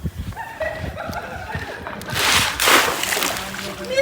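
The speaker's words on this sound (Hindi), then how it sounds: "ये इसके अंदर डाल रहे हैं पूल के अंदर ताकि ठंडा हो जाए पानी।" At a rest house pool in Jeddah, something is dropped into the water to cool it, making a loud, broad splash and slosh close by. It comes amid voices and laughter.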